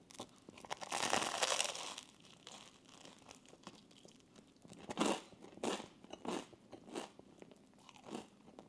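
Close-up eating of an egg with a runny yolk and a bacon medallion: crisp crunching bites and wet chewing, one long crunchy bite early, then several shorter bursts of chewing, with no talking.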